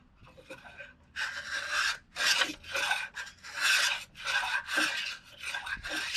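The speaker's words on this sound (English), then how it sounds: "Take the planer, put it down, and you're going to feel it bite just a little bit." A hand planer shaves along a board of wood in a series of short rasping strokes, loud and close, with brief gaps between passes and no voices.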